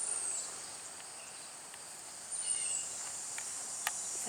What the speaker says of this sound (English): It's like 8 o'clock, and you can hear the cicadas.